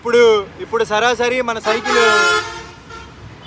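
Vehicle horns toot in short bursts in busy Chittagong street traffic in Bangladesh. The honks are close and loud, and someone talks over them.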